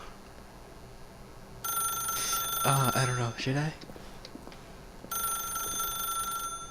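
A telephone rings in The Stanley Parable video game, a steady electronic ring in two bursts with a pause between, while someone talks briefly in the gap.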